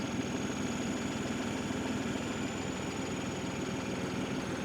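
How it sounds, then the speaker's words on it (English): A New Holland Workmaster 75 tractor engine idles steadily with a low, even diesel rumble and a faint high whine, with no talking and no change in pace. "now that we have the tractor running"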